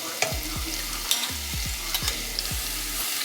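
Minced garlic sizzles in melted butter over medium-low heat for shrimp scampi, a steady frying hiss broken by repeated rhythmic whisking strokes through the pan, close and moderately loud.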